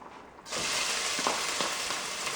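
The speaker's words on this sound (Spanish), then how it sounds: "Ahora vamos a echar la cebolla." Onion drops into a pot for a melloco and cheese soup and bursts into a steady sizzling fry, with a few soft stirring scrapes, close and without talk.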